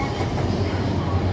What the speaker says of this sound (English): another bullet train, not normal train.